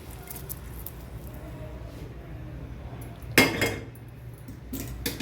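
A spoon knocks against a metal vessel as roasted dry fruits are added to vermicelli kheer, with a loud clink followed by a few smaller clatters against a quiet background.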